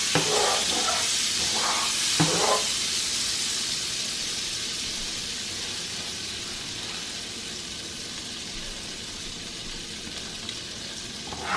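Butter and olive oil sizzle in a hot pan, a steady bright hiss that starts fierce with a few sharper crackles and slowly softens as it settles, with no talking.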